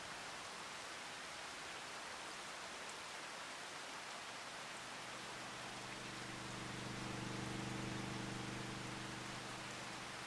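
Steady hissing rain in the video game Farming Simulator 25 fills the scene, a constant wash of drops with a low droning tone rising underneath partway through.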